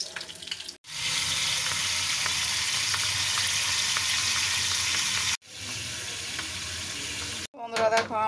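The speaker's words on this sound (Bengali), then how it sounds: "এখন কড়াইয়ের মধ্যে ডিম ভাজছি।" Boiled eggs frying in oil in a wok, a loud, steady sizzle that runs almost without break, cut off twice by brief silences, with a faint bit of other noise at the very end.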